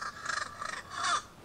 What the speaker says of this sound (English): So it's just the sounds of the birds